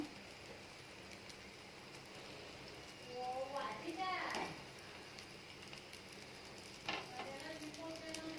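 Toor dal obbattu cooks on a hot pan with a constant quiet sizzle, a few soft scraping stirs breaking in partway through.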